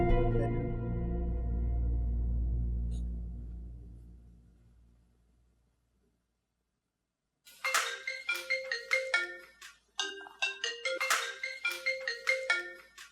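A mobile phone ringtone plays a bright, repeating melodic phrase in loud pulses, coming in after a fading low drone and a few seconds of silence.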